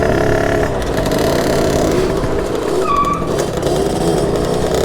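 Derbi moped fitted with a 70cc Metrakit kit being ridden gently during break-in, a loud continuous two-stroke engine drone with wind rush and other mopeds nearby.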